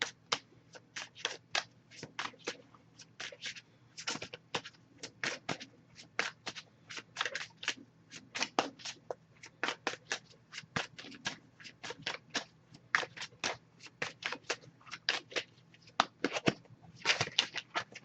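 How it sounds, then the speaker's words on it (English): A deck of oracle cards being shuffled by hand, giving a long run of quick, crisp papery riffles and flicks in irregular bursts at close range, with a faint steady hum underneath. "we're just going to shuffle this deck and pull one card from here as well"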